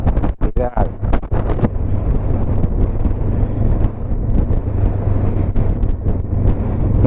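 A 2019–2021 Honda CB500X motorcycle rides along a road in autumn, its engine drone steady and loud beneath heavy wind buffeting, with a brief voice at the start.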